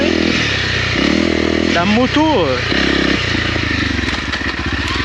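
A 2022 Honda CRF 300 L motorcycle ridden off-road, its engine loud and close, rising and falling through revs with a sharp sweeping surge in the middle, while a rider talks over it.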